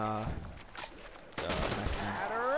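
Gunfire from Call of Duty Black Ops zombies mode on the Call of the Dead map, heard as a few bursts of shots over game sounds at a moderate level, with short pauses between them.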